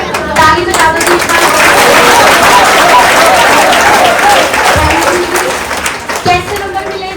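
Audience applause at an Indian awards ceremony for a best-centre management award, a dense, steady burst of many hands clapping that carries on for several seconds before thinning at the end.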